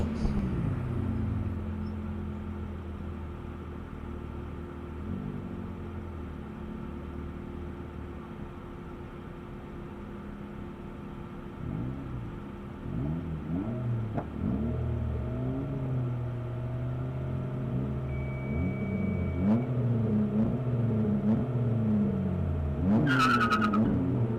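A Mazda Speed Miata, geared very low from the factory, runs an SCCA ProSolo autocross slalom, its engine droning and revving steadily with pitch swings through the gates, loud and continuous, with a brief tire squeal or sharp burst near the end.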